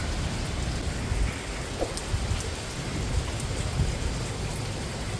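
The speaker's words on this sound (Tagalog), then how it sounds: "umapatak na naman ang ulan." Steady heavy rain falling outdoors during a thunderstorm in the Philippines, a dense continuous hiss with scattered drops and faint low rumbles, no voices.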